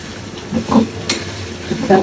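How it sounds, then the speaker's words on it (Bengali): A spoon stirs fish curry in oil in a pan, a close sizzle with soft scraping strokes and a faint clink, brief and without speech. "এখন একটু আমি রান্নাটা নাড়িয়ে দেওয়া হচ্ছে"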